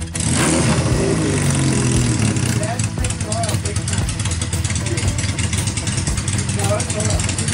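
A motorcycle engine revs loudly and continuously, its throttle rising and falling in a rough, mid-pitched roar, while people talk nearby.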